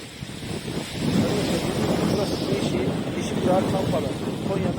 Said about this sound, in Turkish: Aşırı rüzgar var.